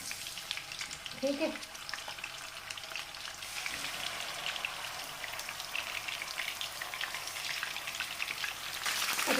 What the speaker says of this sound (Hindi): तो चिकन डाल के इसको फ्राई करेंगे।